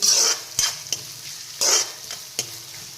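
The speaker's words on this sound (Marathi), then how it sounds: "कांदा चांगला सोनेरी रंग येईपर्यंत भाजून घ्यायचा आहे मोठ्या गॅसवरती।" Onion fries over a high flame, a loud bright sizzle rising in bursts as a utensil stirs and scrapes the pan, with no talking.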